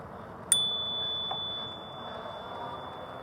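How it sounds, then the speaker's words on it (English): A single bright ding from the handlebar bell on a Magicycle Deer full-suspension ebike, ringing clear and sustained before slowly fading over quiet outdoor background. "We're gonna have to hit this bell too."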